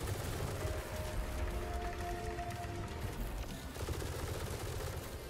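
Gunfire in the video game Atomic Heart, a steady, moderately quiet stream of rapid shots with a faint tonal whine running through the middle, continuous throughout.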